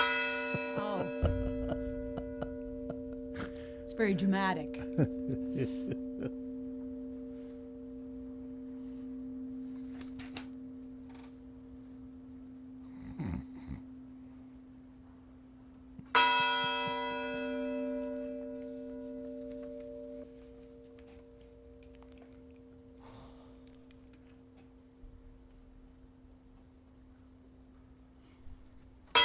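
A church bell tolls twice, about fifteen seconds apart, each strike resonant and lingering in a long humming decay, moderately distant, while people talk quietly in between.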